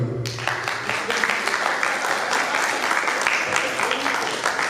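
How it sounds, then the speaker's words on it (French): A crowd at an anniversary celebration claps steadily, fairly close and sustained for several seconds, with a voice speaking briefly at the start over a low background. "merci d'applaudir"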